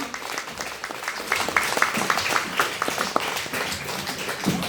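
An audience at a charity concert applauds, a dense patter of many hands clapping at once that stays steady and fairly loud throughout.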